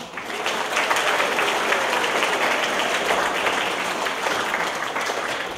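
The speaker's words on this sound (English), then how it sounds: "Math, let's give them a round of applause." Sustained audience applause for fifth-grade math students at a school event, a dense, steady wash of many hands clapping without pause, moderately loud and even throughout.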